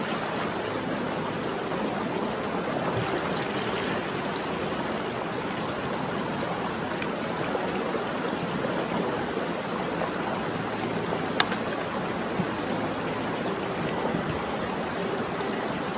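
Steady broadband rushing of an outdoor waterfall pouring into water, continuous and fairly loud throughout with no talk over it.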